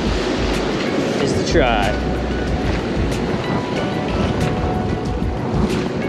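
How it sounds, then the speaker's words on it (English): Strong wind buffets the open shore of a rough New Jersey sea during fall striped bass fishing, a loud constant roar mixed with crashing surf, while someone talks briefly over it. "Wind's blowing in our face."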